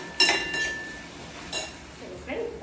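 A utensil scrapes and clinks against a pan while roasted gram flour and okra are stirred for besan bhindi, giving a few sharp metallic knocks and softer scraping strokes at close range.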